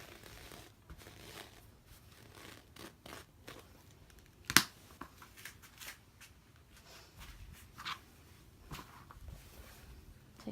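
Scissors snipping through cotton shirt fabric while a button band and panels are cut away, a quiet run of soft crisp snips and rustling cloth with one sharper louder cut partway through, no talking.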